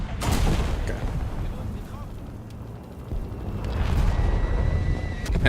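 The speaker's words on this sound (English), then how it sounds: "An airstrike." An airstrike explosion in a tank video game with a Leopard 2A4: a deep, booming rumble that swells, eases and rises again across the whole stretch, loud and close with a roaring low-end texture.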